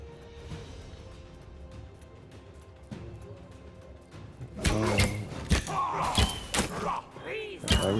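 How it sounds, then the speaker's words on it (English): Landmine shot and set off in Tribes of Midgard: after a few seconds of quiet game ambience and soft thuds, a burst of loud crashing impacts and debris sounds erupts near the midpoint and continues in rapid hits. "I'm trying to shoot the landmine."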